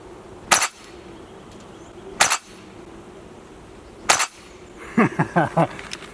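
An airsoft Barrett .50 cal rifle with a rotating bolt fires three sharp, widely spaced shots, followed by a quick rattle of clicking mechanical clatter, all close and loud with no talking.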